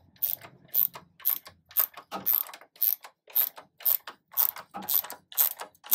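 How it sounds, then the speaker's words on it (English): A ratchet wrench works loose old bolts during a Chevrolet C10 short box conversion to a half ton, a steady series of about a dozen crisp clicking bursts in even rhythm, close and clear with quiet gaps between strokes. "The guy using a ratchet. Clickety click click."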